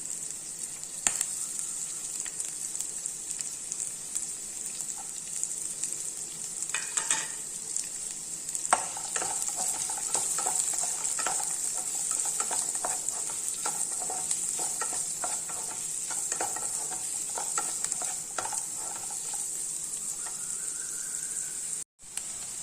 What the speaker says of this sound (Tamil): நம்ம இந்த ஸ்டேஜில் வெங்காயத்தையும் சேர்த்துடலாம்